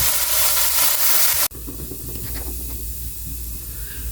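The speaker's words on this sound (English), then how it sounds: "I'm just actually going to cover this and let it saute" Food sautéing in a pan, a loud hissing sizzle cut off abruptly when the lid goes on, followed by a softer, muffled bubbling sizzle that continues steadily.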